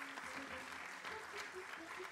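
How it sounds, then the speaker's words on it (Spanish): An audience applauding steadily for a couple of seconds, fairly faint, with a voice carrying over the clapping. "Un aplauso para Mabel también"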